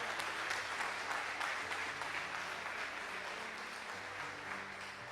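A church congregation applauds in a dense, steady wash of clapping that holds evenly at one level from start to finish, with no voices standing out.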